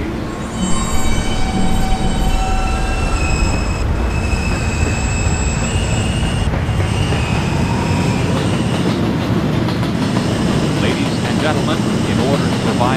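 An R subway train rolls steadily along the rails at night, wheels clattering and squealing loudly throughout, with a continuous close, rumbling roar.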